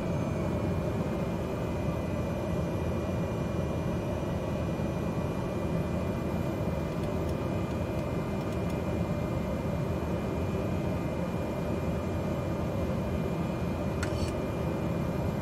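A Cessna 208B turboprop engine in Microsoft Flight Simulator 2020 drones steadily and loudly for the whole stretch, a dense, unbroken roar with a faint high whine and no talking over it.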